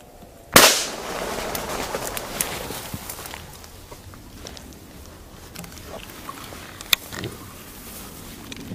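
A single sharp, loud shotgun blast goes off near the start, then fades into quiet outdoor ambience with faint rustling while hunting feral pigeons in a field.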